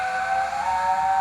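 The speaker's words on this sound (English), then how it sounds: "There's another whistle." A Hornby P2 model locomotive's steam sound generator gives a steady shrill steam whistle with a hissy edge. It sounds close and fairly loud, holding evenly for just over a second.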